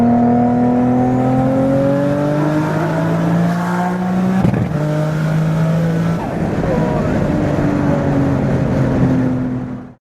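Turbocharged Nissan G35 coupe with a leaking exhaust, its engine droning loudly from inside the cabin while it accelerates through the gears, with rising pitch sweeps and a shift partway through.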